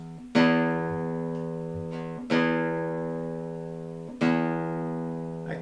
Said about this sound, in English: So this is our 6th string